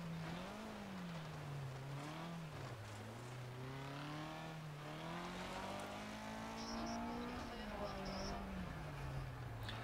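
An Opel Kadett GTE 16-valve rally car in a racing video game revs and shifts, its engine note climbing and dropping in repeated sweeps, loud and continuous, with a faint higher electronic chirp late on.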